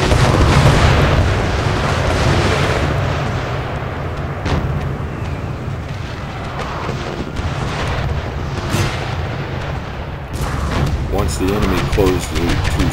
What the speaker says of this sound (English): So what I'm going to do is have them fire one more volley